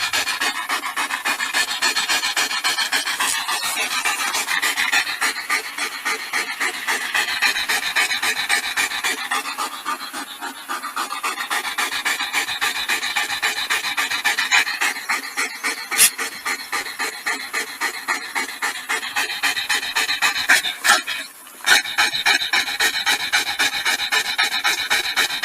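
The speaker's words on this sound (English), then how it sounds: "Get a little ASMR here while we hear the dog panting." A dog pants steadily and rapidly for a long stretch, a continuous breathy rasping close by, with no talk over it.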